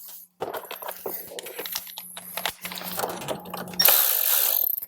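A ratchet clicks in quick bursts while a speaker screw is driven into the front door of a 2018-or-later Jeep Wrangler JL during a 6.5-inch speaker upgrade. The rapid, close pawl clicking ends in a louder rustle.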